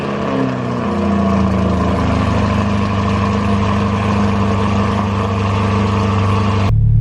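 A 2020 C8 Corvette, mid-engine, fitted with an aftermarket exhaust, runs after a cold start. Its loud, steady, close-up droning idle settles after a brief higher rev at the start and ends abruptly.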